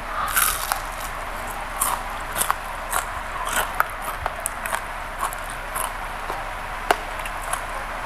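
Crunchy bakwan fritters, Sulawesi style, being bitten and chewed close up, with a steady series of crisp crunches and bites repeating over the whole stretch and no talk.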